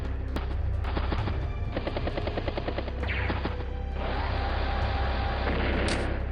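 Advance Wars: Days of Ruin battle sounds: a battlecopter attack with rapid machine-gun bursts, then artillery fire and booming impacts over a continuous game soundtrack.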